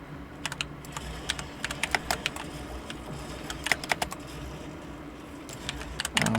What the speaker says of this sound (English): I'm playing with a mouse and keyboard.